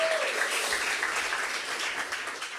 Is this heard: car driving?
no